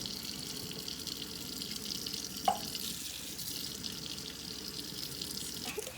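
A loofah being rinsed under a running tap, a steady hiss of flowing water with a single sharp knock partway through and a faint clatter near the end.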